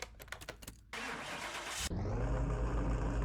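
A 2022 Nissan Z's twin-turbo V6 in a car mechanic video game cranks briefly, then catches and settles into a loud, steady, rumbling idle, close by and with no talking.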